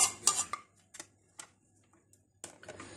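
A spoon clinks and scrapes against a pot while boiled noodles are mixed into cooked beef mince, a few sharp taps early and then sparse, quieter knocks with near silence between them.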